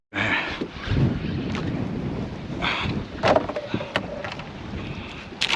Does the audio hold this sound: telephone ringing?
no